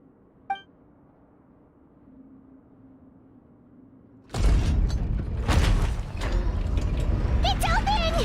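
Sluice gate opening in a video game: after a quiet stretch, a sudden heavy mechanical boom gives way to loud grinding, rushing and clanking that carries on steadily, with a voice speaking over it near the end.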